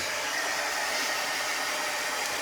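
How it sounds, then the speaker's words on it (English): Hair dryer blowing close and loud on a freshly painted chalk-style sign, a steady unbroken hiss of rushing air with no talk over it. "I'm going to get my dryer out"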